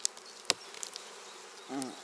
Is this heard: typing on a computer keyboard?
no